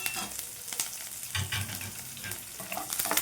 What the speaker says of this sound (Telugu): ఇందులో ఉల్లిపాయ ముక్కలు వేద్దామండి, ఒక ఆనియన్, ఇందులోనే కొద్దిగా కరివేపాకు